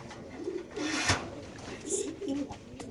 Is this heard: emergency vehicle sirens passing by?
no